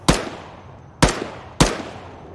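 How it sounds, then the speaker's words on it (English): Gunfire attributed to an A-10 aircraft in the ARMA military video game: three loud, sharp booming blasts with decaying tails, spaced about a second apart, with no voices. "That might be the A10 you're hearing"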